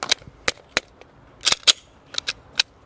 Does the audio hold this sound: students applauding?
no